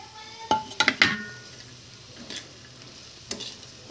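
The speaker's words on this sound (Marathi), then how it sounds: "आता ह्याच्यामध्ये वांगे आपण टाकून घेऊया" Pieces of brinjal drop into a hot pan with a few sharp clattering thuds, followed by a soft sizzle and occasional scrapes nearby.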